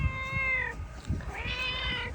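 A pet cat named Kiki gives two drawn-out meows close by, with a short gap between them, over low rumbling room noise.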